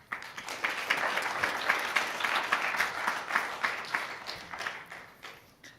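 An audience at the APNIC 38 networking conference policy session gives a steady round of applause that lasts several seconds and fades toward the end, with no talk over it.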